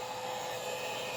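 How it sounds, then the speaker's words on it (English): A Wagner heat gun blows a steady, loud broadband hiss of hot air over a Westclox Big Ben clock, an unbroken whoosh lasting the whole moment. "I'm taking my glorified hair dryer, my Wagner, and I'm going over this a little bit"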